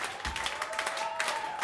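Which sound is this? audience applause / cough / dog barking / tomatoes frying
audience applause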